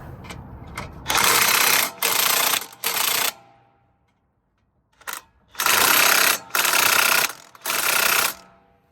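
Ratchet tightening a bolt on the front brakes of a Honda Accord, heard as two clusters of three rapid, loud clicking bursts separated by a brief pause, close up with no talking.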